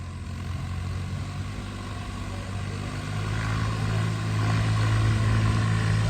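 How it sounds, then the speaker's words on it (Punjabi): A Massey Ferguson 8055 tractor engine running on a farm, a steady low diesel drone with a strong humming tone that grows louder and heavier partway through, continuous with no talking. "ਪੂਰਾ ਵਧੀਆ ਚੱਲਦਾ ਟਰੈਕਟਰ"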